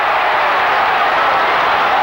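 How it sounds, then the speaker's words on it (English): Big crowd roaring at the Melbourne Cricket Ground after a goal in a 1981 Collingwood versus Richmond Australian football match: a steady, loud, wash-like roar of thousands of voices that doesn't let up. "Well, the big crowd at the Melbourne Cricket Ground going mad."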